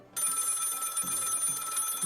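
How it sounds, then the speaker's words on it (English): Telephone ringing in a video game, a bright continuous electronic bell that starts abruptly and carries on steadily with soft low thumps beneath it, loud and close. "The phone is ringing."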